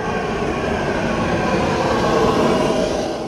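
A passenger train arrives at night in Russia's Samara region, a loud, steady rolling rumble of wheels and carriages that continues without breaks or voices.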